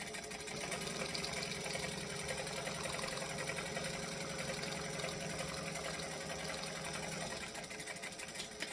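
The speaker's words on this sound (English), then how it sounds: "Then I'm going to fold this down and I'm going to top stitch along the base." A sewing machine top-stitches along the base of a handbag, running steadily at close range for about seven seconds with a fast, even mechanical whir. It then stops briefly, and no one speaks.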